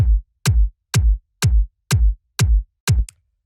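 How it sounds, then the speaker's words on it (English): A punchy, bassy tech house kick drum hits seven times at an even tempo, each hit short and heavy with a deep low boom, sounding alone and dry. "Pretty simple kick. You can hear it's just like this very punchy, kind of like bassy kick."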